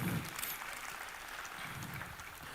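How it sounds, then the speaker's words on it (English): A conference audience applauds a speaker with steady, moderately faint clapping that continues evenly throughout, mixed with a low murmur. "Please, another round of applause for him."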